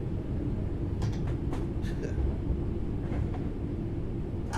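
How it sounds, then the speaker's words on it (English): A German Talent 2 train in Train Sim World 3 gives a steady, heavy low rumble throughout, with a few faint higher clanks and squeaks on top. No one speaks over it. "That's a Talent 2. That's a German train."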